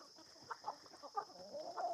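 Backyard flock of hens and roosters, including Rhode Island Reds, clucking softly in a string of short, scattered calls over a steady faint background hiss, with no talk.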